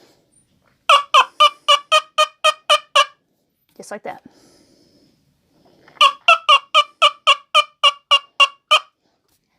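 A handmade wing bone turkey call imitates turkey yelps in two loud, close runs of about ten evenly spaced, rising yelps each, separated by a brief voice.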